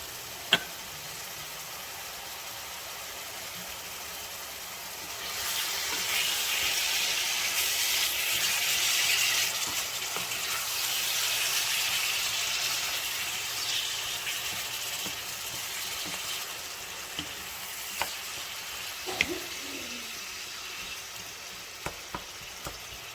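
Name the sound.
meat browning in a pan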